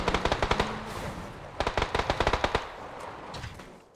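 Gunfire in the video game PUBG, fired from a moving car: two clusters of rapid, sharp automatic shots with a short pause between them, fairly quiet in the mix.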